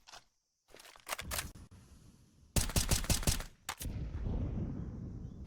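Gunfire in Counter-Strike: Global Offensive during a professional match, sharp bursts of rapid automatic shots in clusters separated by short gaps, loud and close.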